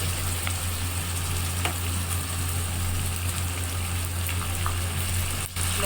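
Minced meat (keema) frying with onions in a pan gives a continuous crackling sizzle over a steady low hum, with scattered small pops and no speech.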